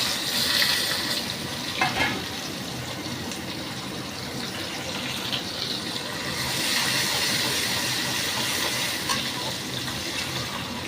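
Chopped onion frying in oil with whole cumin and cinnamon, giving a dense, continuous hiss and sizzle with occasional stirring scrapes, close and fairly loud throughout.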